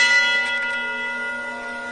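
A large cathedral bell rings out once, its bright strike fading into a long, steady hum of sustained overtones that decays slowly over two seconds with no voices.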